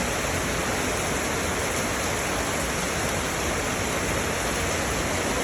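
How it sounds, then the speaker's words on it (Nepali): Heavy rain pours down in a continuous, even rushing hiss, loud and unbroken from start to finish. "कति ठुलो पानी परेको एक्कासी"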